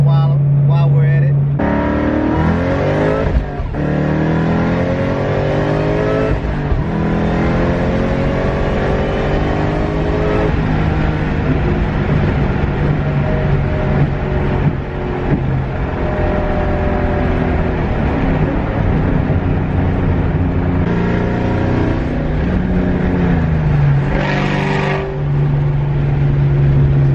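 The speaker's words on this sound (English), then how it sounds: "I guess I'll let you guys see a couple of pulls in the car while we're at it" A Ford Mustang Cobra (Terminator) accelerating hard from inside the car, the engine roaring through rising revs with gear changes, loud and close, talk over it at times.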